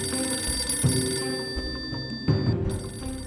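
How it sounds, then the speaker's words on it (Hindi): An old telephone bell rings in two insistent trilling bursts with a short gap between them, clear and fairly close, with no voices. "टेलीफोन की ट्रिंग ट्रिंग की घंटी की आवाज अब कल की बात हो चुकी है"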